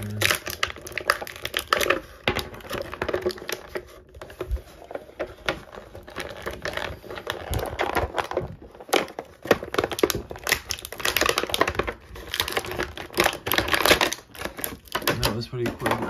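Plastic packaging from a Marvel Legends Venom movie action figure box crackles and rustles steadily as accessories are pulled free, a dense run of close clicks and crinkles throughout, with no speech over it.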